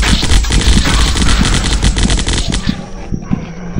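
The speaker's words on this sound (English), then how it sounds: "Assault rifle." Rapid assault rifle fire in the Zombocalypse video game, a loud, fast stream of close gunshots that ends with a few scattered shots as it tapers off.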